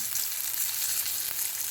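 Crucian carp frying in sunflower oil in a pan, a steady close crackling sizzle with light bursts of spattering, no voices.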